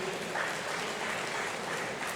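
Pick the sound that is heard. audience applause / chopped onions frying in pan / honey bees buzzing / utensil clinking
audience applause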